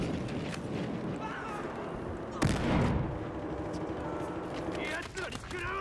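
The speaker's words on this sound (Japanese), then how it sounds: "フラッググレネード" In Battlefield Hardline, a frag grenade blast erupts as one loud boom that rumbles for about half a second amid ongoing distant gunfire and busy game noise.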